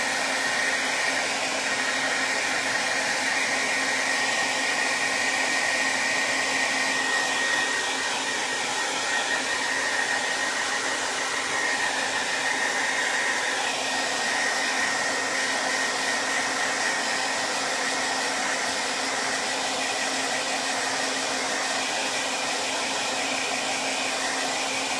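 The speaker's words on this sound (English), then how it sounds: "I'll see while I'm using the blow dryer" A hair dryer blows with a steady, loud whoosh and a constant whine, running without pause the whole time.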